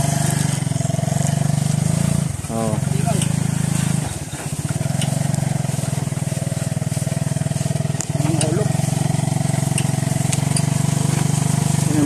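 A motorcycle used to haul coconuts on a farm estate idles and chugs steadily up close, with a few brief revs, while voices talk over the engine.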